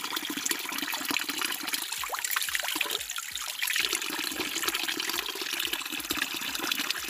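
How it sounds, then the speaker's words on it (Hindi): Natural mountain spring water at a village source in Pauri Garhwal, Uttarakhand, runs and trickles continuously, with splashy drips patterning the flow, close by and without voices. "ये सब नेचुरल पानी आता है ऊपर से।"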